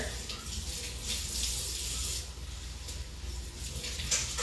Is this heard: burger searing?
no